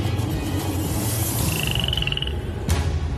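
Small terrestrial frog in Madagascar that can inflate itself, giving a close, loud trilled croak lasting under a second amid a dense chorus of other frogs and insects.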